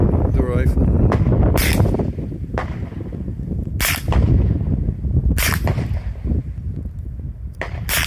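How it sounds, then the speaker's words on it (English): Sharp .22 caliber rifle shots at a recreational shooting spot in San Bernardino National Forest, about five loud cracks spaced a second or two apart, each dying away quickly over a steady outdoor background. "shooting the rifle."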